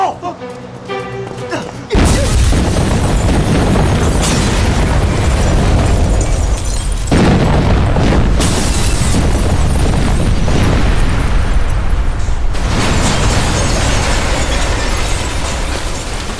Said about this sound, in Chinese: 炸弹！快跑！